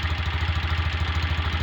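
A motorcycle engine idles steadily with a loose exhaust pipe and bracket rattling in a quick, even rhythm, close and continuous with no talk.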